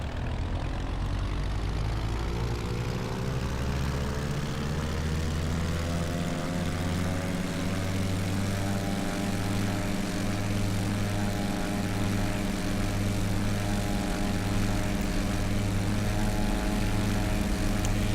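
Propeller airplane engine in the X-Plane flight simulator, set near Toronto City Centre airport, holds a steady loud drone with a low rumble and layered harmonic tones that slowly rise in pitch as the throttle advances, continuous with no talk.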